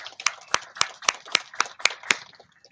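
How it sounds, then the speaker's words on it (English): Volunteers aboard a starship set applaud themselves: a short run of about eight crisp, evenly spaced claps, close and fairly loud, tapering off into quiet at the end. "everybody give yourself a round of applause"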